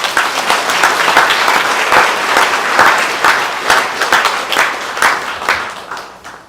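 A crowd at a book concert claps loudly and continuously, a thick wash of many hands with slight surges, before the applause tapers off near the end.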